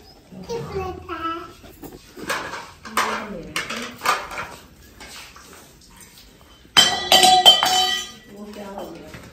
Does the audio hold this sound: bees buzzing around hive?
no